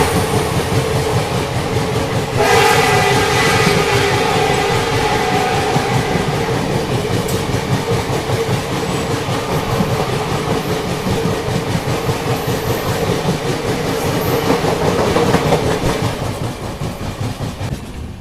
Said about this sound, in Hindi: अभी देखो क्रॉसिंग होने वाली है अपनी रंगिया गुवाहाटी एक्सप्रेस के साथ